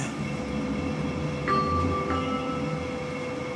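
A Sheffield tram runs with a steady, moderately loud rolling rumble and a faint electric whine, joined by a couple of short high tones midway.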